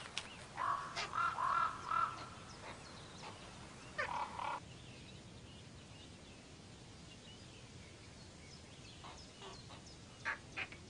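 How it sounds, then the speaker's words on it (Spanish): Raven chicks calling from a nest in a nature reserve, a few hoarse, nasal begging calls in two short bursts near the start, faint and somewhat distant, followed by quieter scattered sounds over a steady outdoor background. "Los picos de los polluelos, abiertos de par en par, y sus largos gaznates muestran que técnicamente los cuervos son pájaros cantores."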